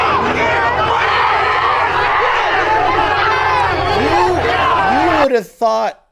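A large crowd roars and cheers continuously after a street race, with dense overlapping shouts and whistles, loud and sustained, then cuts off abruptly near the end.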